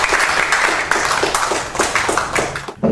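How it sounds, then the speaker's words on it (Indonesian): An audience applauds at a business strategy class, steady clapping of many hands held at a fairly loud level for about three seconds before a sudden drop at the end. "Tepuk tangan untuk kita semua."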